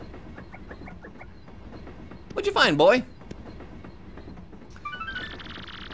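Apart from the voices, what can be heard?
train riding in the video game Paper Mario: The Thousand Year Door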